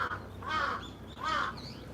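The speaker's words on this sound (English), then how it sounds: "The crow disagrees with my assessment." A crow in a Tokyo park gives two loud, harsh caws in quick succession, close by, with faint park ambience beneath and no talking.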